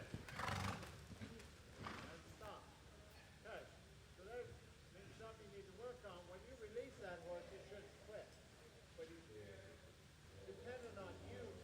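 A horse runs a large, fast circle at a riding clinic, its hoofbeats faint and distant with an occasional whinny, while voices carry over the arena.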